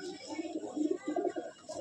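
Pigeons in a Bamangachi loft, Ostad Tapan Saha bloodline birds, give soft, low rolling coos in a few short phrases. The coos are close but quiet, with faint background noise.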